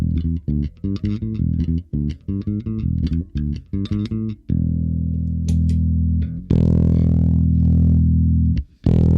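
Electric guitar played with a clean tone: a run of plucked notes and chords, then long sustained ringing chords, loud and close with no voices.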